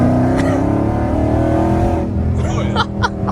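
A 500+ hp Dodge Scat Pack accelerating hard, its engine roaring loud and close inside the cabin with a sustained deep growl that rises in pitch, then shifts near the end with brief gear-change breaks.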